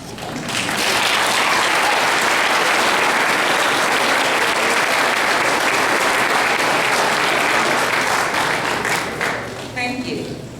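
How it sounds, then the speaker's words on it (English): Family and friends in the audience at a 2014 nursing graduation ceremony give sustained, loud applause that swells quickly, holds for about nine seconds, then fades out. "give yourselves a round of applause"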